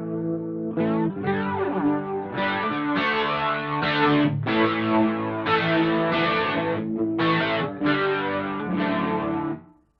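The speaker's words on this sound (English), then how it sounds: "That really sounds like the country song sort of distortion." A distorted electric guitar through a Boss GP-10 processor plays a melodic line of sustained, gritty, country-style notes on its own, then stops abruptly.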